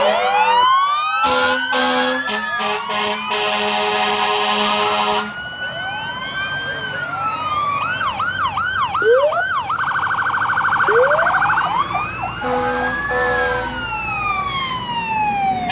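An ambulance siren wails at a truck show street event, loud and close, cycling through long rising-falling sweeps and rapid yelping bursts, with horn-like blasts early on.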